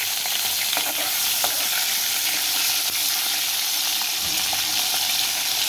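Pomfret fish fries in a wok, giving a steady hissing sizzle with frequent small pops and crackles, and a brief soft scrape of the fish being moved near the end.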